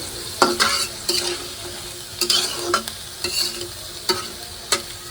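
Onions and chilies sizzle loudly in a hot pan while a spatula stirs them in quick, regular scraping strokes, close up and without any voice.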